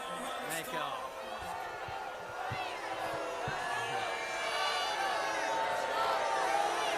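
A political rally crowd in Pickens cheers and whoops ahead of Graham's speech, a steady roar of cheering and shouts with scattered claps, moderately distant and building slightly over several seconds.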